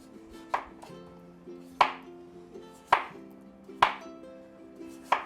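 Knife chopping through a butternut squash on a cutting board, five sharp separate chops at an uneven pace, close and clear, with a faint background hum.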